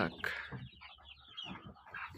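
Chicks peep in high, rapid chirps, several birds calling over one another at close range with soft clucking underneath.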